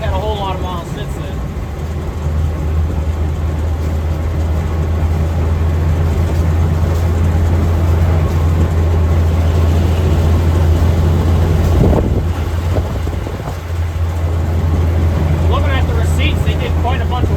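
A 1940s-era army truck with a rebuilt Ford engine (30 over, new cam) drives in cold 25-degree weather, its steady low engine drone and road rumble filling the cab, with a brief louder surge midway.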